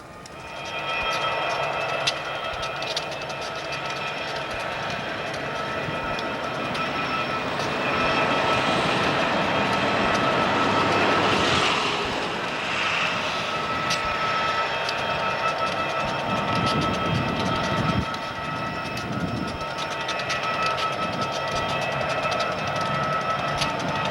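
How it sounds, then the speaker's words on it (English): Conrail locomotives ease down a wye track toward a rail yard, a steady loud rumble of engines and rolling cars with faint metallic ringing and a swell in the middle, continuing alone without voices. "These units are easing down the Y toward the yard."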